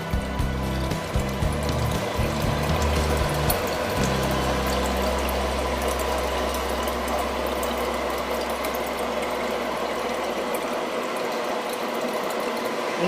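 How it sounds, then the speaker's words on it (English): Distilled water pours through an opened valve into a jug with a steady, close rushing flow, a low mechanical hum underneath cutting out partway, leaving the water running alone. "I can just open this valve up, and that's distilled water going in."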